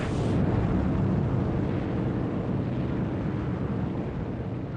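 Artillery explosions in WWII North Africa fighting, a continuous heavy, low rumbling roar with dense booming that fills the whole stretch loudly and evenly, with no distinct separate blasts and no talking.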